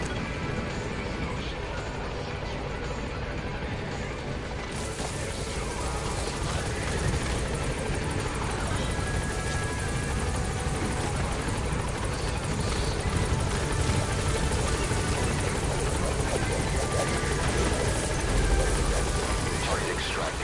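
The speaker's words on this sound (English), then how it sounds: "Put the target on the chopper." Helicopter extraction during a Metal Gear Solid V mission, with steady rotor noise and engine drone running throughout, loud and continuous, alongside game effects and voices.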